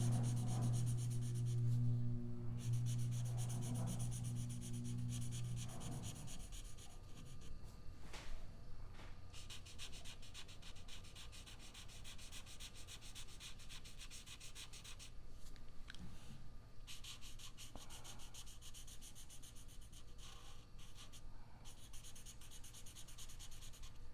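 Pencil shading in a cartoon frog's mouth on paper: steady, close, soft scratchy rubbing strokes running continuously, with a low hum at the start and no voices.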